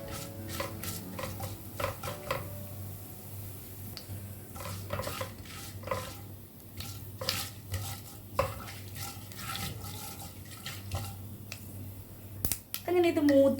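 Mustard seeds, urad dal and chana dal frying in a pan for Kerala-style rava upma, with stirring clinks and scrapes over a steady low sizzle, while a voice talks throughout.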